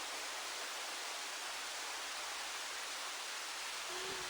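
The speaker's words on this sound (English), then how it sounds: "I want the waves to be wider." Steady, broad wash of surf noise, like ocean waves rolling continuously with no distinct breaks, moderately loud and with no voices.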